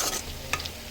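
Soaked ingredients being gently stirred in a pot, a short scrape and soft swish of the spoon over a faint simmering hiss, brief and close with no voices.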